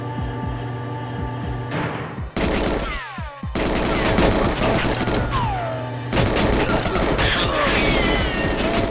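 Gunfire in the video game GoldenEye, with repeated loud shots and bursts over a game soundtrack, a brief break near the middle, then more dense firing.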